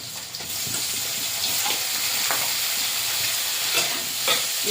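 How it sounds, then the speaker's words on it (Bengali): Constant loud sizzle of shrimp frying in a pan with chopped onions, with a few short scrapes of stirring breaking through the hiss. "চিংড়ি একটা ভালো করে ভাজা ভাজা হতে থাক।"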